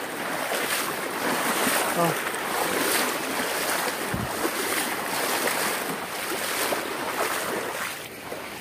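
Strong current in a creek called Riacho Grande rushes loudly and steadily, with wind buffeting the microphone and a brief spoken word over it.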